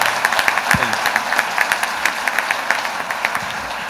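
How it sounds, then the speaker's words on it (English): Lunch-crowd applause for a Blue Angels pilot at a 2014 Rotary luncheon in Seattle, loose, uneven clapping with distinct individual claps standing out throughout, fairly close and moderately loud. "Can we have a nice round of applause for our Blue Angel?"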